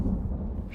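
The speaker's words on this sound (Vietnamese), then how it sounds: "Là tiếng sấm." Thunder rumbling in a Chinese horror-action film, a low, sustained roll that is loud and alone, with no voices over it.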